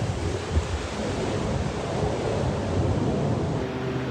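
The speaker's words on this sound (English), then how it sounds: "A bit windy there today in the old Palm Springs" Steady wind in Palm Springs rushes and buffets against the microphone, a constant low roar with no voices.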